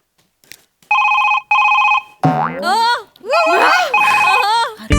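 Two short bursts of a ringing phone tone sound, then loud animated voices break in, with another ring heard under the talk.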